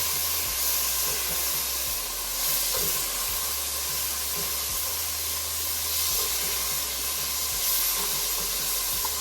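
Meat for chili sears in a hot pan, a steady loud sizzle and hiss with a low periodic thump underneath, heard alone without talk.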